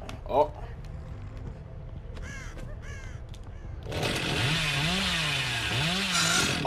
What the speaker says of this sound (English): Brian, you and this chainsaw, bruh.